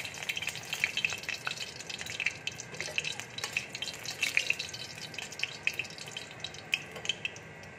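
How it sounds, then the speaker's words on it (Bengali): Dried red chillies crackle and spit in hot oil as a Bengali tadka tempering for green moong dal begins, a steady close sizzle with sharp pops scattered throughout, no voices. "আমি শুকনো লঙ্কা ফোড়ন দিচ্ছি।"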